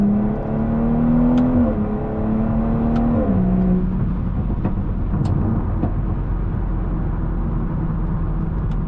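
A BMW 440i Gran Coupe accelerates hard, its engine droning loudly and rising in pitch, then dropping sharply at each quick gear change, followed by a steady rumbling cruise with road noise, heard from inside the car.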